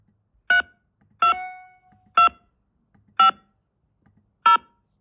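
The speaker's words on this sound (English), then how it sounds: "Once you receive, please enter the 6-digit code." Telephone keypad tones entering a one-time passcode: five short, clear DTMF beeps at fairly even intervals, each standing alone against silence, with no talking.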